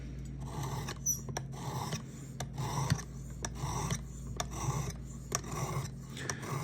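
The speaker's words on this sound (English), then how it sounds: "The more time you spend here at the lower grit, the less time you'll have to spend on the higher grit." A knife blade being hand sanded with low grit abrasive, heard as steady rhythmic raspy strokes, close and fairly loud, with no talking.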